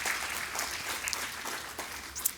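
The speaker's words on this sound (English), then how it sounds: "that is cause for applause" Audience applause at an anniversary celebration of Asian Heritage Month during an opera performance event, a broad steady wash of clapping from a crowd, moderately loud and continuous with a few sharper claps toward the end.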